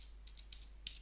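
Quiet keystrokes on a computer keyboard, a handful of light, quick taps in an uneven rhythm over a steady low hum.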